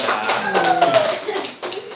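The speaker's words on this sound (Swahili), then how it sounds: "Makofi jamani." Clapping and cheering at a birthday party, a burst of handclaps mixed with raised voices and chatter that briefly dips before picking up again.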